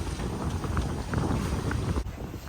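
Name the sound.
wind blowing while sailing off the south coast of France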